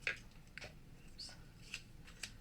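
Scissors cutting paper for a handmade octagon gift box, a few separate crisp snips spaced about half a second apart, close and fairly quiet with no speech.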